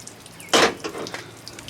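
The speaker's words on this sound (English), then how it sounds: "water just flushes out." Coolant water gushes briefly from a hose on a John Deere Gator 625i, a short close splash followed by softer trickling.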